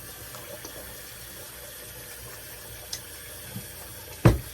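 A tap runs steadily as something is rinsed under the water, a soft continuous splashing with a few louder knocks and a sharp clatter near the end.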